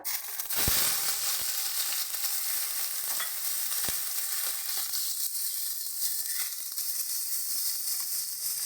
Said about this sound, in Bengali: তেল ভালো মতন গরম হয়ে গেছে দিয়ে দিচ্ছি চিংড়ি মাছগুলো